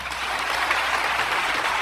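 Church congregation claps loudly during a sermon, a brief, dense wash of hands with no voices over it.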